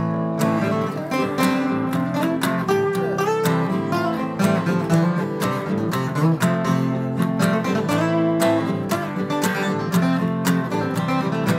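Electric guitar playing an ad-lib chorus part, a dense, continuous stream of ringing notes and strums with a full, sustained tone, loud and upfront with no voices.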